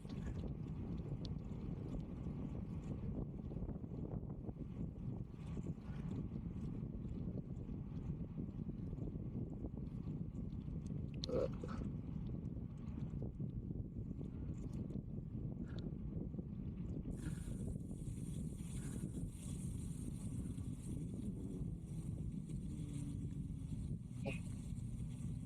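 Strong wind buffets the microphone during a bike ride on a desert cycle track in Al Wathba, a constant low roar and rumble, with faint brief clicks and a hissing rise in the background later on.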